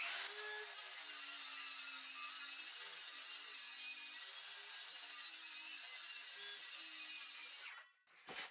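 A power saw cuts through ordinary and laminated plywood sheets for tabletops, a steady high whine with a pulsing, slightly wavering pitch running for several seconds before the blade winds down near the end.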